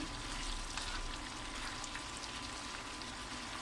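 Chicken masala sizzles steadily in a large frying pan as it is mixed, a continuous even frying hiss with faint scraping, close and moderately loud.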